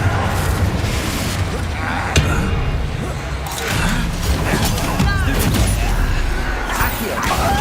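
A Confringo fire spell exploding in Hogwarts Legacy amid a dense, loud wash of combat booms, crashes and spell effects, with a voice speaking in the mix.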